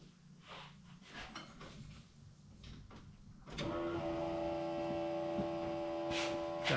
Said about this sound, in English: That Humming's the electric fuel pump.